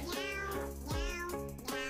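A cat meows in a series of drawn-out, tonal cries, three or four close and fairly loud, sounding distorted or pitch-warped as in an edited meme clip, with no talking.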